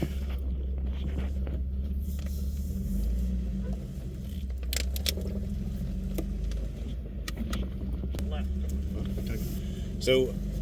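An off-road vehicle cruises along a trail at Sand Hollow with a steady low engine rumble throughout, plus occasional rattles and crackles, while people talk over it.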